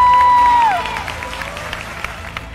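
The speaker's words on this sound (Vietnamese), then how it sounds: "Một tràng pháo tay nồng nhiệt cho Saladi và Đăng Quân." Applause and cheering from a studio audience at a street dance competition broadcast, a steady clatter of clapping that rises after a sustained tone fades out in the first moments.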